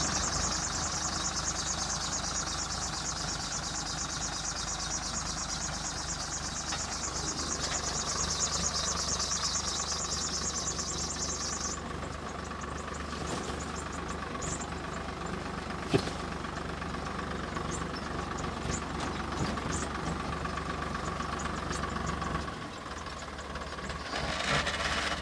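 A farm tractor engine runs at a steady idle-like drone for the whole stretch, loud and continuous, with a brief knock near the middle and a slight dip in level toward the end; no talking.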